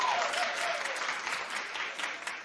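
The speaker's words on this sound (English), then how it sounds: "Clap if you feel that Joe should not feel threatened by Nick." Studio audience at a daytime television talk show breaks into steady, dense applause that fills the room throughout, an even wash of many hands clapping at once, with a faint voice briefly audible early on.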